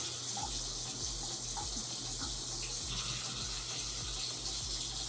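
Water runs steadily from a tap as a tape-attached hair system is wetted for washing, a constant close splashing rush with no speech.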